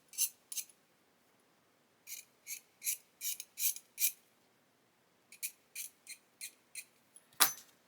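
A blade scrapes a moulding seam off a plastic part from a 1/32 Lancaster B.III bomber model kit, giving short, crisp, separate scraping strokes in two bursts with a sharper knock at the end, close and quiet.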